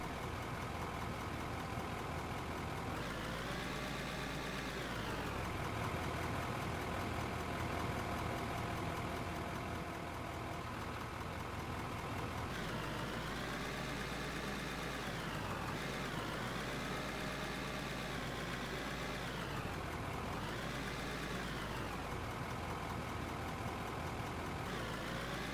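The engine of a new truck in the mining video game Out of Ore idles with a constant low rumble, broken by several surges where the pitch climbs and falls back, heard alone and fairly close.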